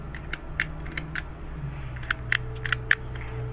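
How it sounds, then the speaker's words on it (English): The shutter release on a Cristar camera with a single shutter speed is clicked repeatedly, producing a string of small, crisp mechanical clicks close up, with a busier cluster near the end. "this is a Cristar camera, and it has the shutter release here for the single shutter speed."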